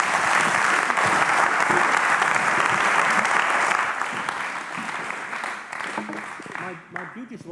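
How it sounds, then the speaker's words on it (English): Sustained audience applause after a data visualization presentation, loud and even at first, then thinning and fading toward the end as a voice briefly speaks beneath it. "Applause"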